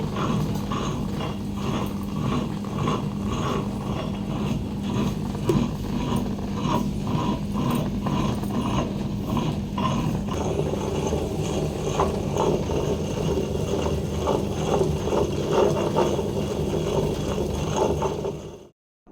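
Wet grinder churning bobbara cowpea lentils into smooth batter, a steady loud mechanical whir with rhythmic grinding and clattering throughout, stopping abruptly at the end.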